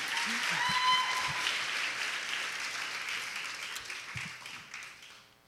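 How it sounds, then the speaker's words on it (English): Audience applause at an Ignite Tampa Bay talk event, a dense steady wash of many hands clapping that slowly thins and fades toward the end, with a brief voice or two underneath. "So give yourself a round of applause"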